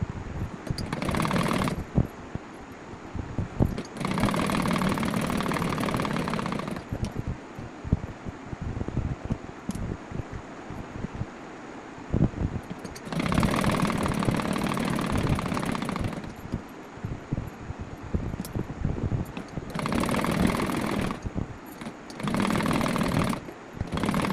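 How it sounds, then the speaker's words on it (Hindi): A sewing machine stitches a kurti's neckline onto the fabric. It runs in loud, close bursts of rapid mechanical whirring, broken by short pauses, with quieter handling between runs. "यहाँ ऐसे सिलाई लगानी है ताकि ये कपड़े में अटैच हो जाए हमारा गला।"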